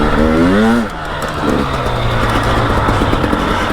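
A two-stroke dirt bike engine revs up in a rising sweep, then settles into a steady, close, loud drone while riding single track.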